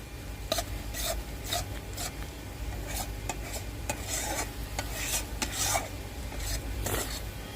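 Shrimp frying in a pan, a steady sizzle with repeated scraping strokes of a utensil against the pan, close and fairly loud, no talking.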